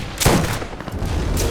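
Assault shotgun fire in the video game Carnage Commando: one sharp, loud blast near the start with a short decaying tail, then a faint second report near the end.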